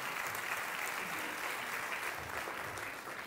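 An audience at a community gathering in Iceland gives steady, dense applause, a continuous wash of clapping at moderate distance with no voices on top.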